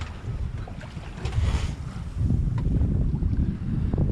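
Wind buffets the microphone aboard a sailboat running under full sails on the North Sea on a sunny day, a steady rushing roar over wash and water noise, with no voices.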